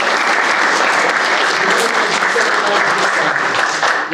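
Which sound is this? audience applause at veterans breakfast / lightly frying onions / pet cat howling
audience applause at veterans breakfast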